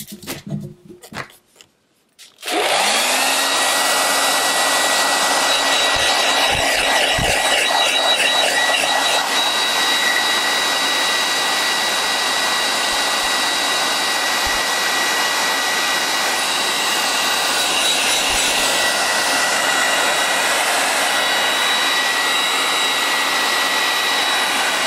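Hair dryer blowing on a freshly inked and painted art journal page, starting after a few seconds of handling noise and then running loud and steady without pause to the end.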